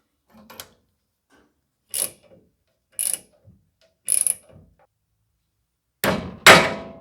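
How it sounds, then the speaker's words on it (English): Metal tool work prying cotter pins from the front end of a 1984 Dodge Ram D150: sharp, isolated metallic clicks and scrapes separated by silence, ending in two louder, rougher clanks, all close up. "Just pry these out, cotter pins."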